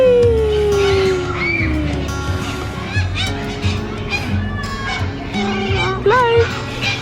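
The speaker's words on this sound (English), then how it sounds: "Those birds are very noisy." Noisy farm birds on a backyard homestead call over one another in a dense, loud chorus of honks and squawks, with children and adults talking under it.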